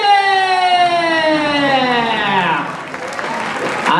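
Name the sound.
audience applause after a dance battle final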